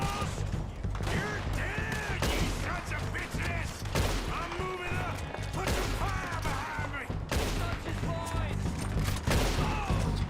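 Rapid gunfire from a shootout in Red Dead Redemption 2, a dense barrage of shots and thuds running loud and continuous under game music and voices.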